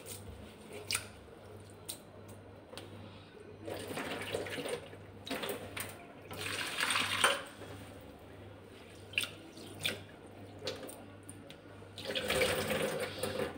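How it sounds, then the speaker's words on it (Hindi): Rice being washed by hand in water, with close, soft sloshing, squishing and dripping in intermittent bursts, fairly quiet with a faint steady background hum. "ये देखिए मैंने चावल को वॉश कर ली हूँ, धो ली हूँ"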